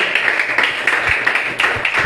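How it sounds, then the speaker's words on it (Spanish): A church congregation claps in praise, the dense applause steady and close for the whole stretch, with sharper individual claps popping out of the wash. "Un aplauso al Señor"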